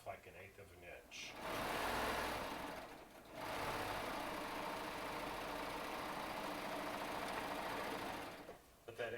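A serger stitches quilt fabric squares together in short bursts: a fast, buzzing mechanical whir runs briefly, pauses, then runs steadily for several seconds before stopping, close and fairly quiet, with a voice faintly present.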